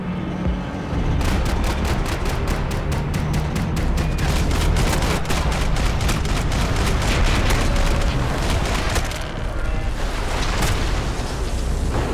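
Rapid, sustained gunfire in the video game Max Payne 3, a dense barrage of loud, closely spaced shots with booming impacts running almost continuously for several seconds, close and intense.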